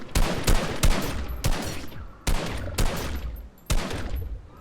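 Gunfire from tap-firing at bouncing zombie targets in an aim trainer game: six sharp, loud shots spaced roughly 0.7 s apart, each with a short decaying tail, with no talking.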